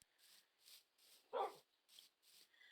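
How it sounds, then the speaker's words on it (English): A Minecraft wolf in its non-aggressive state gives a single short, dog-like bark in a video game. It is heard alone and at moderate level against quiet, rubbing game ambience. "You can hear him barking like a dog."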